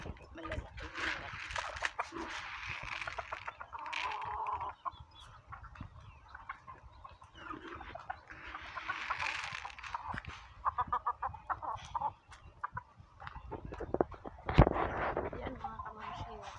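Chickens cluck and squawk in bursts close by, with occasional louder cackles and a person talking intermittently underneath.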